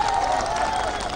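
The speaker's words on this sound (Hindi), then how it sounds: "हरीश द्विवेदी जी, भारतीय जनता पार्टी के सांसद, तालियों के साथ इनका स्वागत कीजिए।" A crowd at a public gathering in Basti district claps to welcome a Bharatiya Janata Party MP, a short burst of dense, even applause with a faint voice beneath.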